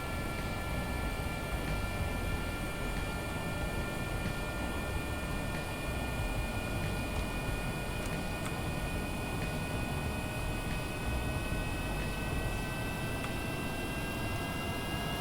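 Aircraft engine in powered forward flight in Kerbal Space Program, a steady unbroken drone with a whining tone, holding constant and fairly loud throughout with no voices.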